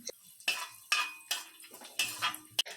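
Cashews stirred in a pan of ghee give a run of distinct clinking scrapes of a spoon against metal, about five strokes, with only a faint sizzle between them.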